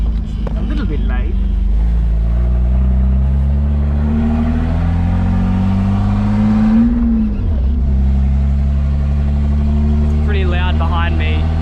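A turbocharged BMW E36 car drives along with a loud, steady engine drone that rises and dips in pitch as the throttle changes, close up throughout.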